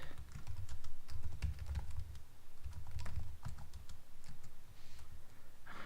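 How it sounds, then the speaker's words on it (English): Typing on a computer keyboard, close and fairly quiet, with bursts of rapid clicky keystrokes broken by brief pauses and no talking. "I can't type today at all."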